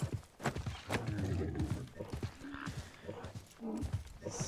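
Donkey ridden in the video game Assassin's Creed Mirage, with steady clip-clopping hooves and a brief bray over ambient game noise, while someone talks throughout.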